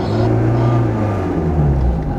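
A Yugo GV car engine revs close by, a loud low drone with pitch rising and falling over a couple of seconds.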